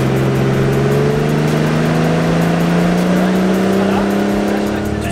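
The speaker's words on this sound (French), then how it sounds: "elle va essayer d'apprendre à faire un burn statique" Car doing a static burnout, engine held near 4500 rpm against the brakes: a loud, sustained, steady engine drone with rising pitch and tire noise throughout.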